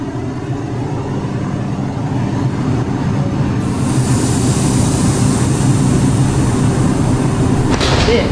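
A Brooklyn-bound R142 4 Express subway train at 14th Street–Union Square station makes a loud, continuous rumble and hiss in the station, with a sharp door-like clunk near the end.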